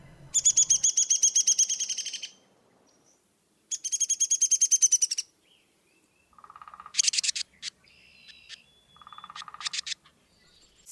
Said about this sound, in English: all of the birds that you heard are very common feeder birds